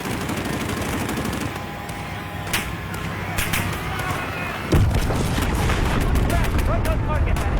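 Gunfire in Call of Duty: Modern Warfare, with scattered shots early and then a dense, loud burst of automatic fire and explosions in the second half, while a player talks over it.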